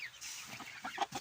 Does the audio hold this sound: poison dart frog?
no